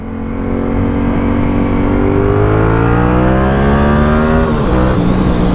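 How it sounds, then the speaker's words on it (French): A Yamaha XSR 700 motorcycle engine pulling up through the revs in a loud, rising exhaust tone, then dropping off abruptly near the end with a short burst of crackle, heard close and alone. "Oh, ça pétarade, c'est génial."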